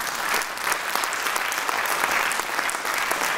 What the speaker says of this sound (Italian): io direi che un bel applauso per questo brano ci sta